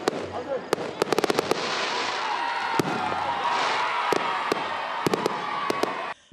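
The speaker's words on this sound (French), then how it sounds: "Le feu d'artifice illumine le ciel d'Odiéné" New Year's midnight fireworks over Odienné, sharp cracking bursts in quick irregular clusters ringing over a dense, crowd-like roar, fairly loud and spread across the whole stretch.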